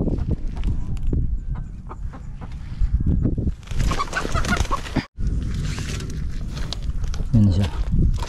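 A chicken clucks nearby among rustling and footsteps, while people talk over it throughout.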